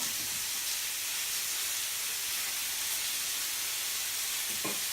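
Shrimp and beef skewers sizzling on a barbecue grill, a steady broadband hiss of fat and juices crackling close up, continuous and even throughout with a faint tap near the end and no voices.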